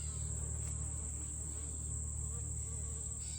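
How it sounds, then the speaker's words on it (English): Honey bees buzz steadily around a hive during a fall check, a dense, continuous hum close by with no pauses and no voices. "So we're getting a lot of water bees."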